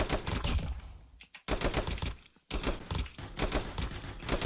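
A new weapon in a shooter video game fires in fast automatic bursts: three loud rattling volleys separated by brief silent pauses, each burst punchy and close.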